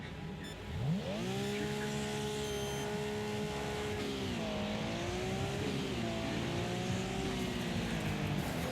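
A race car engine in Wreckfest revs up and holds a strong whining tone that rises and dips as the car shifts and accelerates, loud and continuous with faint tire noise.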